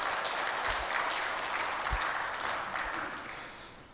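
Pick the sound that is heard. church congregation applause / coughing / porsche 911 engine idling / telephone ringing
church congregation applause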